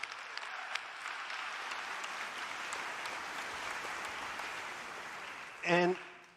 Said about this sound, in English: let's give it a round of applause to all the amazing things that you have done